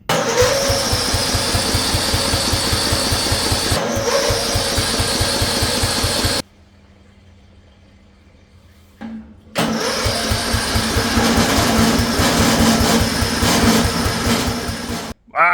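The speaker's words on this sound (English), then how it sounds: "typical Ford gave us crank no start" The Ford engine of a custom lifted lawn mower cranks but won't start, a loud rapid rhythmic churning of the starter that runs, pauses for a few quiet seconds, then cranks again at length.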